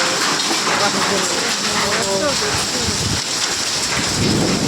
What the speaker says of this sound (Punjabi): ਹਨੇਰੀ ਵੀ ਬਿਜਲੀ ਵੀ ਬਹੁਤ ਕੜਕਦੀ ਆ ਮੀਂਹ ਨਾ ਦੇਖੋ ਕਿੱਦਾਂ ਆ